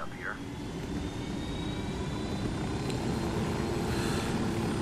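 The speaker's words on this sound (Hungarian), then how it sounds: "Ha már itt a helikopter, akkor éljünk a lehetőséggel," A helicopter in the video game Ghost Recon Wildlands gives off a constant low rotor and engine rumble, steady and fairly close, while someone talks over it.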